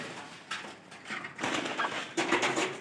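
A pair of pigeons kept in a home loft coo in soft, breathy bursts over about three seconds, growing fuller and closer toward the end, with rustling in the background.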